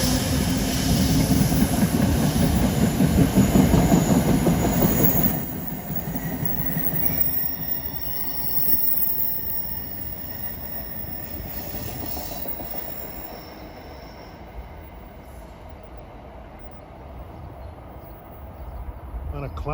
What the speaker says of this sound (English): We have a transit train coming in from New York at 4:29